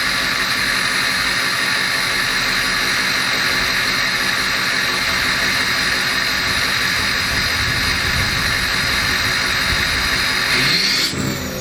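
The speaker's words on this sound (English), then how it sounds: "So I can let y'all hear the exhaust." A 2005 Ford Excursion with a Powerstroke diesel and a full 4-inch turbo-back exhaust runs steadily, giving a loud, continuous engine and exhaust drone with a faint rising swell near the end and no talking.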